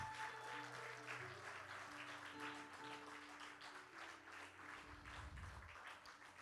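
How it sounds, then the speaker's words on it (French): A church congregation applauding in memory of Bishop Adama, sustained steady clapping from many hands heard at a distance, with some voices under it. "Est-ce qu'on peut acclamer pour sa mémoire?"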